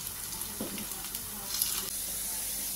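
A second batch of vadas sizzles quietly in hot oil, a soft crackling hiss with small bursts as the pieces are turned over.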